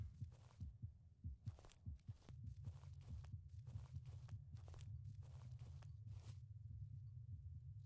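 A steady, faint heartbeat thumps in a regular rhythm beneath a low droning background, with soft scattered clicks layered over it, in a horror video game.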